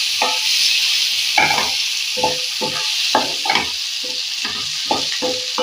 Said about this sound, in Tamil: தக்காளி வெங்காயம் எல்லாம் சேர்ந்து வதங்கி வரும்ல, வதங்கி வரும்